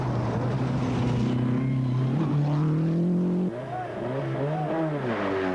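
A Lancia rally car on the 1992 Rally New Zealand drives past loudly, its engine droning and rising through the gears, then dipping and revving again as it moves away.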